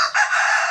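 A native rooster in a fenced backyard crows once, a bright and close call that holds steady to the end of the short clip with no talk over it.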